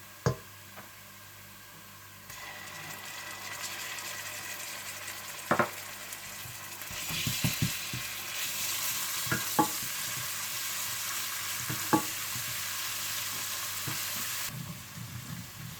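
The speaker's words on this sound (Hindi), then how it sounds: "आप इसमें अदरक लहसुन डालकर भून लें।" Steady sizzle of ginger and garlic frying in a pan with browned onions, with occasional stirring clinks and scrapes, close and fairly quiet, no talking.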